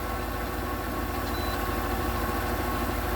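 The 5.4L engine of a 1997 Ford E-150 Econoline idles steadily with a low, even rumble and no other sounds over it.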